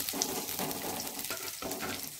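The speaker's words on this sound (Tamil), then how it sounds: "ஒரு கோல்டன் ப்ரௌன் கலரில் வர அளவுக்கு நல்லா வதக்கிக்கோங்க" Onions and green chillies sauté in a hot pan, a steady close sizzle with soft stirring scrapes recurring about every half second, with no talking.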